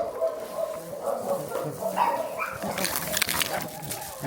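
Bella the dog barks and yips in short bursts at a dog hotel, close by and fairly loud, with people talking in the background.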